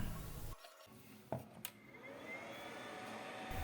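A power inverter running off a battery with a refrigerator connected gives a faint, steady electrical hum. A few light clicks and knocks sound near the start.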